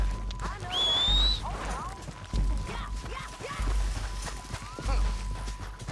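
Horses in the Red Dead Redemption 2 video game, with clip-clopping hooves and a whinny amid game sound effects and a male character's voice, the hoofbeats fairly close and irregular.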